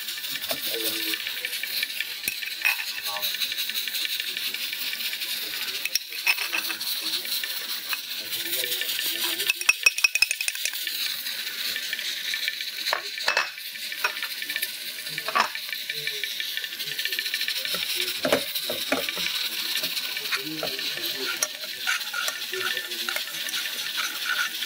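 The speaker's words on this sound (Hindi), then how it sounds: "बहुत हल्के हाथ से आपको इसमें चम्मच चलाना है मक्खन में" A spoon stirs potatoes in butter in a pan for Bohri-style batata, giving a steady light scraping and soft sizzling with occasional clinks, close and continuous throughout.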